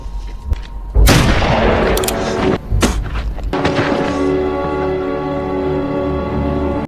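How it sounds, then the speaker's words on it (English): A handgun shot rings out in a dusty Western street scene in a film. It is one loud, sharp crack, followed by a few further thuds and impacts, and then a sustained tonal musical drone takes over. "coldly draws his gun, firing a shot that silences the boy in the dusty street"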